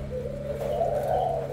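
A spotted dove coos nearby, a soft, low, rounded call that rises and swells over about a second and a half against a faint steady background hum, with no talking.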